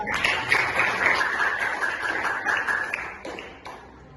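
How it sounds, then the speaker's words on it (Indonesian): Applause from a classroom audience welcoming a presenter during a guided religious-education teaching session, a steady burst of many hands clapping that holds for about three seconds and then fades out. "Tepuk tangan untuk kakak kita."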